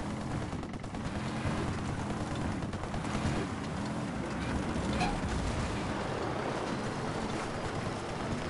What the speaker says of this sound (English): That was a lot bigger of an explosion than I thought it would be.